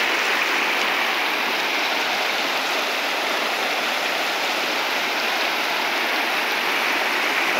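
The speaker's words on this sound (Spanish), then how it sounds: "está el río Huistla de Crecido." Swollen Huistla river after heavy rain, a steady loud roar of rushing floodwater filling the whole stretch with broadband turbulent hiss, continuous and close, with no voices over it.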